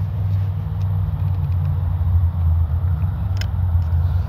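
Arrma Kraton EXB, a radio-controlled car, driving at 75% throttle at a construction site: a steady, loud low motor rumble with a continuous whine, held without break and with no talk.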